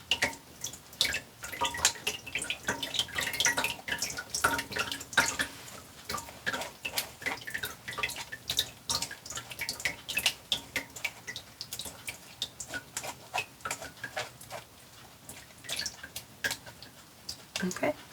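Citrus cranberry juice pressed with a spatula through a strainer, dripping and trickling steadily with small irregular wet clicks and taps, close and moderately quiet, with no voices over it.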